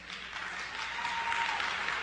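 Audience applause in a lecture hall, a steady dense patter of clapping held at an even level for a couple of seconds, fairly distant and without voices.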